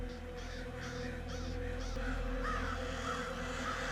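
A flock of crows or ravens caws in a horror movie scene, several harsh repeated calls overlapping above a dense, steady low rumble of score and ambience.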